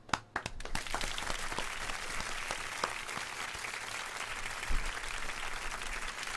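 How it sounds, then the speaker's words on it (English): A studio audience claps in a sustained round of applause for a guest on a community politics radio show, steady and fairly close throughout. "let's give you an official People Before Politics round of applause"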